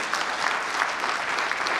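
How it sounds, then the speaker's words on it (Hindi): An audience claps for the mentors at a business gathering, a brief, dense burst of applause that stays loud and even. "शानदार ताली बनती है हमारे सभी मेंटर्स के"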